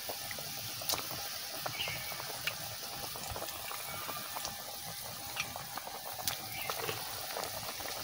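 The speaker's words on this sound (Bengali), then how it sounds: "কাঠের জালে রান্না করলে এরকমই ঝোল ফোটে, top top top top top করে ফুটে উঠবে" Fish curry gravy with snakehead fish bubbles in a pot over a wood fire, giving a steady hiss of boiling with scattered small pops for several seconds.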